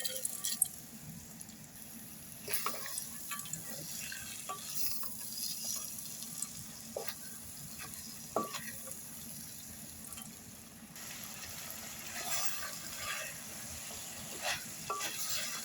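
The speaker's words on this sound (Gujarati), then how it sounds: "આપણે થોડીક વાર આમાં સાતળાવા દઈશું" Cluster beans and potatoes sautéing in spiced oil in a pan, a low steady sizzle with scattered scrapes and taps of a spoon stirring, quiet and close with no talk.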